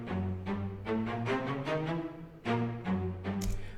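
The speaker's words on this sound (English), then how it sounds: "So I'm using the Cinematic Studio Strings Light Ensemble Short" A light ensemble of cinematic studio strings plays a short, detached ostinato for superhero-style music, crisp bowed notes pulsing in a steady rhythmic pattern with shifting pitches, clear and upfront with no talking.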